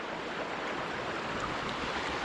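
Rock Creek east of Missoula, Montana, a fly-fishing stream, rushes in a close, continuous broadband wash of flowing water with no breaks and no voices.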